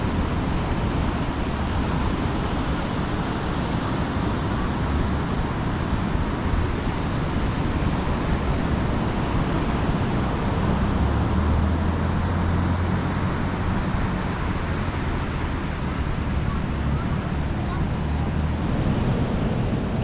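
Broad, steady wash of ocean surf on the beach at Santolo, continuous and fairly loud throughout, with wind noise and a low rumble mixed in and no clear talk.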